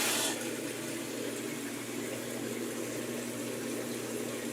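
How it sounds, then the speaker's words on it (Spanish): A Magic Chef washing machine drains water after its wash cycle: a steady, loud rush of flowing water with a constant pump hum, close by and uninterrupted, with no voices. "Ahorita ya está sacando el agua."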